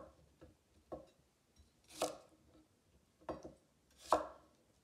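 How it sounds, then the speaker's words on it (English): A knife chops cucumber into bite-sized pieces on a cutting board for a vegan Chinese cucumber salad, with close, crisp blade strikes landing irregularly, a few light taps between heavier thuds, and no talking. "Cut the cucumber in 2 bite-sized pieces."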